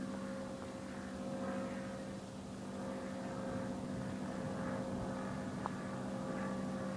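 An ultralight aircraft drones overhead at Cambaie, Réunion, its steady propeller hum holding level and faint at a distance as it approaches.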